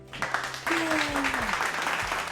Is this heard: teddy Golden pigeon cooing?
no